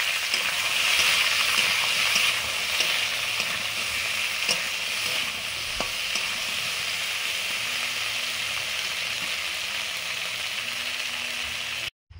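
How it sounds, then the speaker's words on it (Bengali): Okra sizzling and frying steadily in hot oil in a pan, a loud, continuous crackle with faint stirring scrapes, no voices. "তেল দিচ্ছি, ঢেঁড়স ভাজবো। ঢেঁড়সগুলো দিয়ে দিলাম।"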